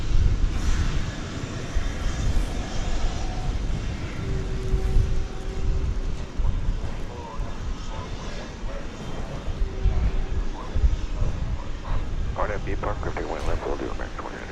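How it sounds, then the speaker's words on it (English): Trijet airliner at Dallas Fort Worth airport, a rumbling jet engine drone that swells and fades slightly, with faint tonal whines and scattered background noise. "is the distinctive aviation stylings of a trijet"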